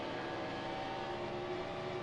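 Race car engine from the NASCAR Heat Evolution video game, a steady sustained engine drone with a constant tonal hum, held at an even loud level throughout.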